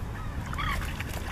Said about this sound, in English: our eider ducks in the grounds are starting to call to each other, and that's the males that make that noise